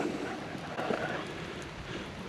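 Rain patters on a camping tarp at a wild mountain campsite. It makes a faint, continuous hiss of drops with no distinct individual hits and no talking.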